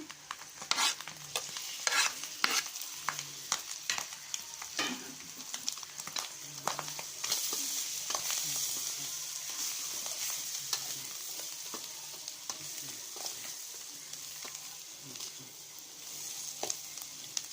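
Chicken fried rice with chopped coriander is stirred in a hot pan, a steady sizzle and frying hiss running throughout with repeated sharp scrapes and clacks of the utensil against the pan, close and fairly loud with no talking.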